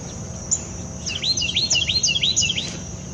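Birds call from a backyard tree in wet, humid weather after a night of rain, with robin, wren and thrasher among them. Quick, bright, clear chirps come in rapid overlapping bursts over a steady low hum of background noise.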